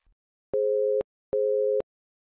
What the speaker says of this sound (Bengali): অঞ্জলি এই বলে ফোনটা কেটে দিল